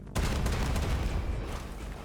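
A video game cannon weapon firing, a sustained rattling barrage of rapid blasts with booming low end, loud and close, slowly tapering off over two seconds.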